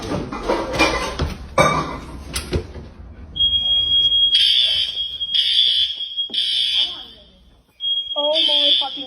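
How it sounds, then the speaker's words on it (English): Fire alarm sounding in loud, shrill repeated beeps after a burst of clattering and commotion at the start, with short gaps between the tones. "Pull the fire alarm."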